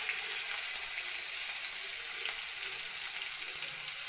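Onion and garlic paste fries in leftover fish-frying oil in a wok, giving a steady, even sizzle that fills the short stretch at constant loudness with no talking.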